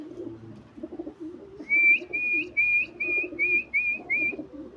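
A person whistles a series of about seven short, bright rising whistles in a steady rhythm, with pigeons cooing softly and continuously underneath.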